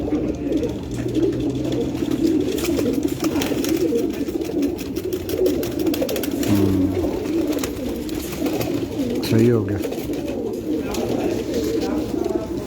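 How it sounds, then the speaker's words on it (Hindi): Pigeons on a rooftop coo steadily under a dense bed of bird sounds, with a couple of louder low coos standing out, and someone speaks briefly. "ये जी कुछ कबूतर यहाँ पे को दिखाते हैं।"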